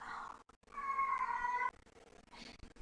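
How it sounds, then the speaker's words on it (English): A pet cat meows indoors in a quiet room during an online physics lesson, one drawn-out, fairly faint cry followed by a softer, shorter call. "I'm sorry about my cat."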